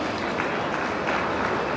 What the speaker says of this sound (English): Let's have a big round of applause for all our speakers